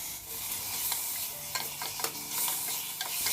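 Chicken pieces tumbling into a pan of frying onions for a Dindigul Thalappakatti chicken biryani, with a steady close sizzle broken by several sharp stirring scrapes and clatters.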